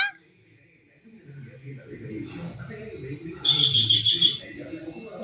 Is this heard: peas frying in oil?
no